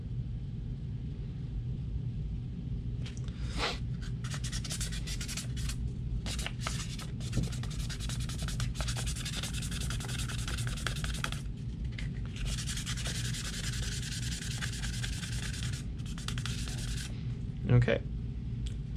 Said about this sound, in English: Just a very light sanding, nothing crazy.